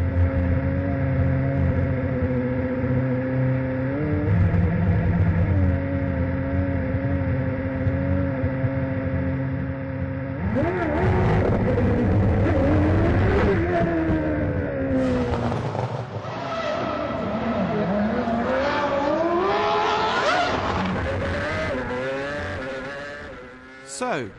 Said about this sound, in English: Nico Rosberg drove out onto the Moscow streets and into the history books